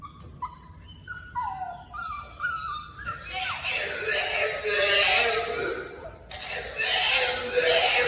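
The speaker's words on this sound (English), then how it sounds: "Who/what does that dog sound like?" A bulldog makes a run of whining, yelping vocal sounds with rising and falling pitch, followed by louder, noisier yowling and grumbling that fills the middle and end, moderately close.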